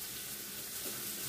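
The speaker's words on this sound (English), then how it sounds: "Let those continue to simmer and cook there." Honey shrimp simmer in a stir-fry pan with a steady, dense sizzle, close and even, with no voices over it.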